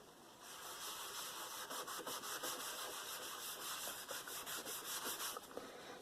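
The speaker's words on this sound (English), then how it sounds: "piece of kitchen towel and rubbed it in. Do a sort of a circular" Kitchen towel rubbing a product into card in circular motions for a leather-look junk journal folio, a soft continuous scratchy swishing with rhythmic strokes, close and quiet.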